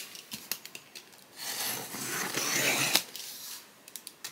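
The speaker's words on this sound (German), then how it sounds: "Ja, machen wir unseren obligatorischen Schnitt." Scissors cut open the plastic packaging bag of an Anycubic Kobra 3 Combo 3D printer with ACE Pro: a few close snips and clicks, then a steady rasping crinkle of cut plastic for about a second and a half, then more light clicks.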